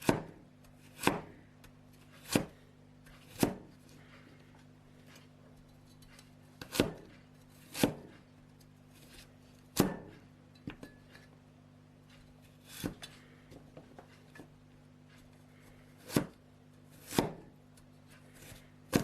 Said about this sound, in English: Place it down on the flat side and cut it in thin slices.